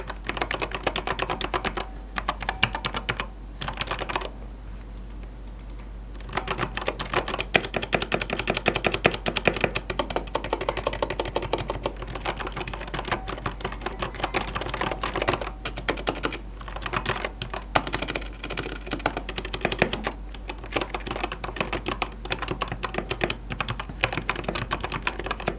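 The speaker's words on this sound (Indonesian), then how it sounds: "Ini adalah hasil si typing testnya Digital Alliance Mac Air di scenes berikut ini cuy." Rapid typing on a Digital Alliance Meca 8X mechanical keyboard, dense close clacking keystrokes sustained throughout with a short pause early on and occasional heavier key hits.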